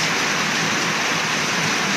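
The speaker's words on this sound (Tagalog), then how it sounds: "malakas yung ulan" Heavy rain falling late at night, a dense, loud, unbroken hiss of drops hammering surfaces, with no voices.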